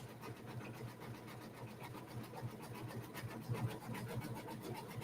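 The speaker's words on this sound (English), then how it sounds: "on my embroidery machine. Yes, it's doing a satin stitch" A home embroidery machine sews a satin stitch, its needle thumping in a fast, steady rhythm with a faint motor whir underneath. The stitching is close, continuous and moderately quiet, with no one talking.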